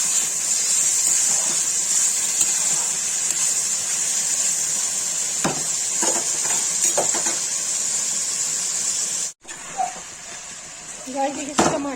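Chopped onions fry with salt and garam masala in a pan as they are stirred. A constant bright sizzle is broken by a few scraping strokes and a brief gap, with a voice faintly present.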